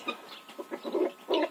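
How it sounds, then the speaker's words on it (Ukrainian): Guinea fowl and turkeys cluck and chatter close by in a poultry yard in a series of short, uneven calls, with no people talking. "гуляють весь день цесарки, індики"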